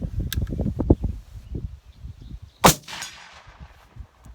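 A single loud CVA Hunter rifle shot fired with a Perfecta load cracks sharply, then rolls off in a fading echo outdoors; speech fills the moments before the report.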